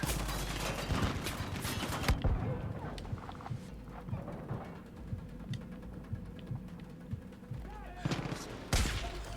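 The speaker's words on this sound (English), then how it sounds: "he's shooting at me now" Gunfire from an enemy in the video game Far Cry 5: repeated shots and bursts crackle through a busy game mix across the clip, loud and near, with heavier blasts at the start and end.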